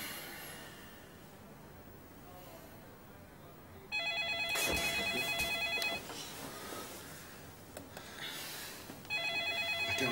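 A telephone rings at night in a darkened home. Two bursts of an electronic trill stand out clearly over a quiet room, the second beginning just as the clip ends.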